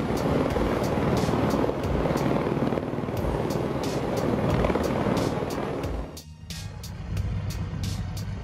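Helicopter flying low over water in a stunt, a steady loud broadband rotor and engine roar with rhythmic blade pulses throughout, briefly dipping near the end before resuming.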